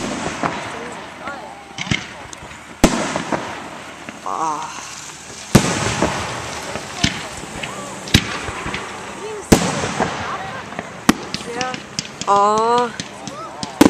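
Canada Day fireworks volley outdoors: repeated sharp booms and crackling bursts, some near and loud, with whistling rising shells, while a person gasps and exclaims between the blasts.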